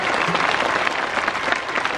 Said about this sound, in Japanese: もう一度拍手をあげてください。